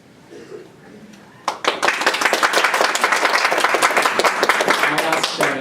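Applause breaks out from an audience at a Buncombe County regular government meeting after a public comment, starting after quiet murmuring and swelling into steady, dense clapping that continues to the end.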